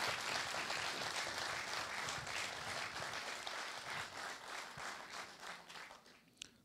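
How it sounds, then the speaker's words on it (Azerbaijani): Applause from a studio audience at a television game show, a dense wash of many hands clapping that holds strong and then gradually thins and fades, ending with a single louder clap. "Sadıq, alqışla."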